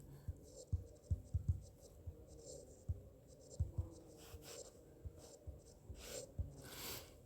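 Chalk or marker scratches and taps on a board in short bursts, a teacher writing unit digits during a maths class, quiet and close with irregular rhythm and faint breathing between strokes.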